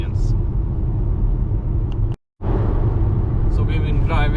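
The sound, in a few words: Volvo XC40 Recharge P6 electric car driving on road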